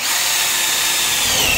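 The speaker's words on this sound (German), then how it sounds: "Mein Akkuschrauber macht ein bisschen schlapp." A cordless drill bores through the weld seam of a pipe, giving a steady, close, continuous whirring grind that barely changes over the short stretch, with no voices.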